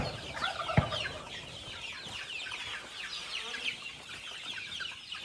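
A flock of baby chickens being moved to a new home, many small birds chirping and clucking together in a busy, continuous chatter with one sharp knock near the start.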